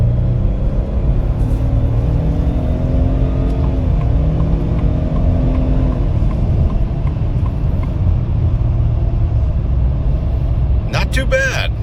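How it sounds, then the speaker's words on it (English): A base-model 2025 Ford F-150 pickup accelerates, its engine a steady low droning rumble heard from inside the cab, with a brief voice near the end. "Let's do a little more acceleration here."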